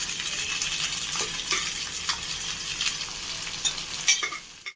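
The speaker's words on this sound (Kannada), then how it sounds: "ಈರುಳ್ಳಿ ಫ್ರೈ ಆಗಿದೆ, ಇವಾಗ ಸೊಪ್ಪು ಹಾಕ್ಕೊಳ್ತೀನಿ." Drumstick leaves frying with onion in a pan while being stirred, giving a steady close sizzle broken by scraping strokes of the spoon at irregular intervals.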